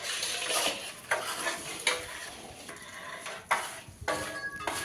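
Flour mixture for adadiya being stirred in a pan, giving repeated scraping and rustling strokes at an uneven rhythm, close and moderately loud with no talking.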